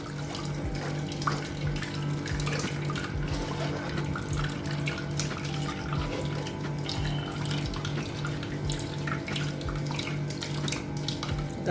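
Water runs steadily from a tap into a vessel to thin homemade beetroot and carrot juice, a continuous splashing stream with light gurgles, close and unbroken.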